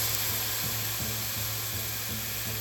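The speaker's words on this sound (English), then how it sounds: "So I will now proceed to adding the stock that we previously boiled in the rice" Asparagus risotto in a pan as boiled stock is poured over the rice: a steady, close sizzling hiss with faint bubbling underneath, continuous and even throughout.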